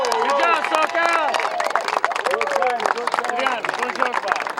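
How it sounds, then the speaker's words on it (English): Crowd at a beach soccer cup finals ceremony cheering and clapping, with many voices shouting and whooping over dense, steady applause throughout. "Please, help me give a big round of applause."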